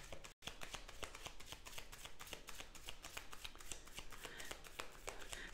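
Tarot cards being shuffled by hand, a steady run of quick papery riffles and flutters with a brief pause near the start, close and alone with no talk.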